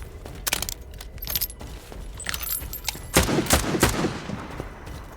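Several bursts of gunfire crack out in the video game S.T.A.L.K.E.R. 2, a few sharp single shots followed by a louder rapid volley, with metallic clinks between.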